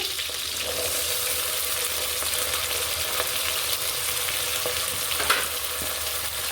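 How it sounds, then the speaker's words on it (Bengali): Onion and frozen peas sizzle steadily in a hot pan for khichuri, a continuous close frying hiss with occasional soft stirring clicks and no talk. "এবার আমি বাকি পেঁয়াজ দিয়ে দিব ফ্রোজেন মোটরও দিয়ে দিচ্ছি"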